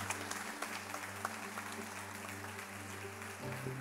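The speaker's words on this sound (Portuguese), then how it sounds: "Você pode aplaudir Jesus?" Church congregation applauding, steady dense clapping over a low sustained hum, with a voice heard briefly near the end.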